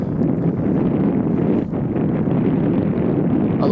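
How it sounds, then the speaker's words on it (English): Loud, buffeting wind gusts at Amsterdam Schiphol Airport rumble against the microphone continuously, with a brief dip midway before the blustery roar resumes. "Now, those gusts we certainly heard and felt."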